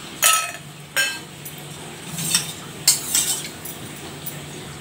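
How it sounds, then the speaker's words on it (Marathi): Ice cubes drop one by one into a drinking glass for a coriander-cumin sherbet, giving several sharp, bright clinks at uneven intervals against a quiet kitchen background. "तर इथे मी ग्लासात बर्फाचे फळे घालते."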